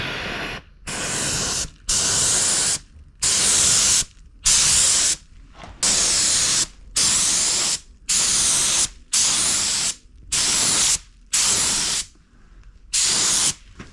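Short bursts of a spray gun laying down an emerald green metallic coat, about a dozen evenly spaced hissing passes of roughly a second each, separated by brief silences, loud and close with no talking.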